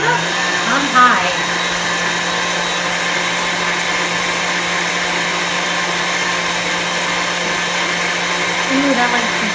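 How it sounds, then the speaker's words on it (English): An electric mixer runs on high through powdered sugar frosting, giving a constant loud motor drone with a faint voice briefly heard under it. "start mixing it up on high"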